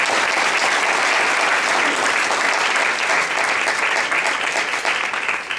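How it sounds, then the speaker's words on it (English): A conference audience at a national leadership keynote breaks into steady, dense applause, loud and sustained across the whole stretch, tapering slightly at the end. "we should give a little applause for this generation and what they're coming to."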